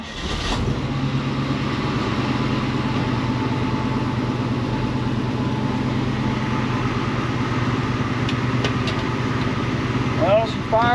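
A 1955 Chevy Tri-Five engine on a cold start settles into a steady, rumbling idle, loud and close, with a low droning pulse that holds throughout and a few brief higher noises near the end.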